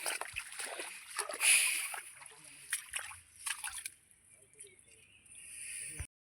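Water flows in from above and from the side into a flooded ditch during traditional Konkan fishing, giving continuous close sloshing and splashing, strongest early on and quieter later, with faint talk in the background.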